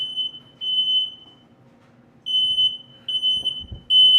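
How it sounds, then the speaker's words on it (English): A kitchen smoke detector set off while cooking cheese fondue, sounding shrill piercing beeps in long repeated bursts with short pauses between them, loud and close, with faint clatter underneath. "there goes the smoke detector"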